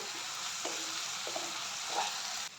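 Non-sour curd stirred into a pan over a low flame while cooking paneer, a continuous soft sizzle with light scraping strokes of the spoon, close and steady.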